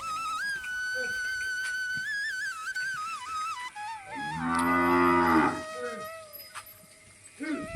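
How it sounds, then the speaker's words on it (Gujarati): Cattle at a cow shelter moo loudly and close at hand, one long drawn-out call in the middle, with other animals and background voices around it. "ગાયું છે બધી"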